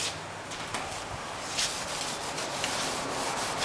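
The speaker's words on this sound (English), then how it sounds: "I'm going to get the debris, road grime, loose junk off the plastic." Cloth rubbing road grime and loose debris off a yellowed plastic car headlamp lens, a steady close scrubbing texture with a few brighter swipes, no talking.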